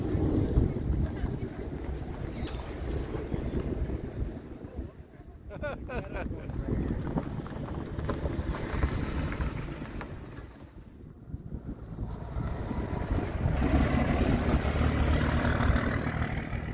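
Steady wind buffets the microphone outdoors at a horse farm in a continuous rumbling roar, easing briefly twice and then swelling again, with no clear voices.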